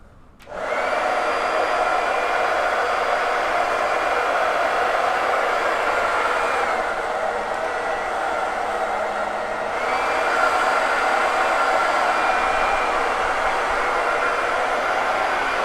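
A heat dryer blows continuously at close range over wet paint on a burlap board, a loud steady whooshing hum that starts abruptly and holds with a slight dip midway, no voices.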